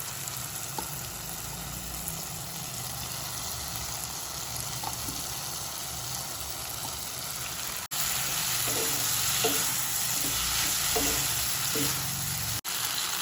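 Okra sautéed with onions in a pan for bhindi do pyaza, giving a steady frying hiss with a few light stirring knocks and a louder sizzle partway through.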